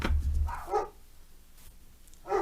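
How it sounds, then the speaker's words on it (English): Two dogs, Sapphire and Annie, bark off in another room, a few separate yips and barks spaced apart, moderately distant and alone with no talk. "Ah, there go the dogs."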